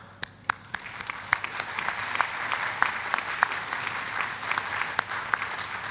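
An audience at a university congregation ceremony gives a round of applause. The clapping is dense and steady with some sharp individual claps standing out near the front, and it continues throughout.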